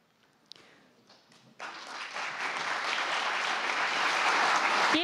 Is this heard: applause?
yes